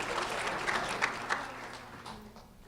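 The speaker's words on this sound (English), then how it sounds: "a round of applause for Nicholas Rosales" An audience gives a round of applause at a sheriff's office recognition event, steady clapping with a few louder individual claps that gradually fades toward the end.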